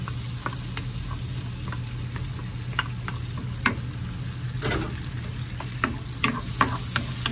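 Garlic fries in melted butter with a steady soft sizzle, scattered pops and crackles, and occasional light stirring clicks, fairly quiet and without any talking.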